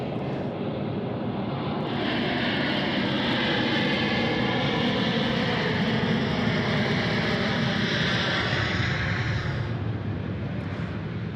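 An aircraft flying at Sydney Airport, a loud sustained engine roar that swells and holds across the whole stretch, broadband and close, with no one speaking.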